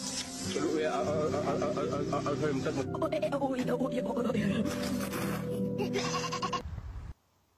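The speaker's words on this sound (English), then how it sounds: "Who the fuck let the sheep in?" Sheep bleating, a repeated wavering cry that runs loud and close through most of the stretch and stops abruptly near the end, with a person talking over it.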